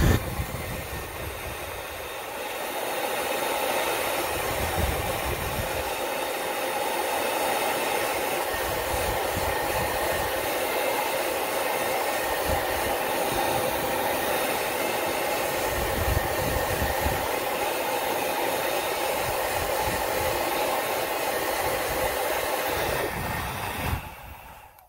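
A heat gun or hot-air blower warming the end of a 5/8 inch hose so it can slide over a 3/4 inch fitting, a steady close whooshing roar running nearly nonstop for about 24 seconds and cutting off at the end.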